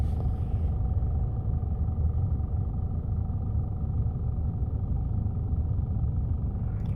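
A car stuck on ice in northern Yakutia rumbles steadily with a deep, constant engine drone, close and unbroken throughout.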